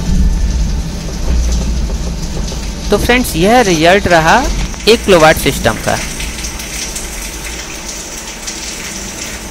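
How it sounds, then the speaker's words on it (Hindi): Heavy rain pours steadily onto a 1 kVA mono PERC solar panel array, a constant hiss and wash that runs throughout the clip while someone talks over it for a few seconds in the middle. "अभी भी आपको आवाज़ आ रही होगी कि कितनी ज़्यादा तेज़ बारिश हो रही है"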